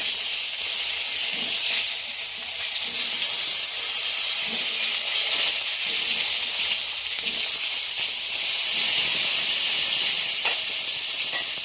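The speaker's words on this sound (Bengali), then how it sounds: "এবারে আমি এই তেলে বেগুনগুলো দিয়ে দেবো।" Eggplant pieces frying in hot oil left over from frying fish, a steady loud hiss and sizzle that goes on without a break and carries no talk.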